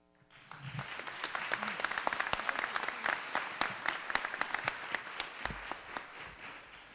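An audience at a PA White Coat Ceremony breaks into warm applause to welcome a speaker, many hands clapping steadily, rising quickly and then holding for several seconds before beginning to fade.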